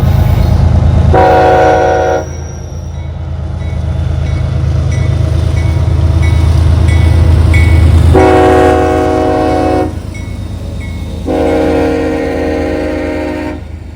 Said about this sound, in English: noticed a triangle of headlights of a train approaching